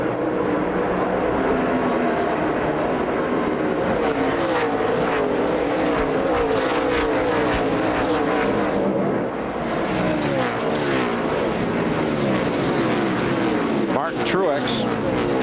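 NASCAR race cars roar away at a restart during the Food City 500, engines loud and sustained with rising pitch sweeps as the pack accelerates and passes, under a commentator's talk.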